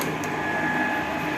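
A Rex/Pazto 21T PT50 pipe threading machine runs after being switched on, giving a steady, loud motor hum with a faint high whine held evenly throughout, no talk over it.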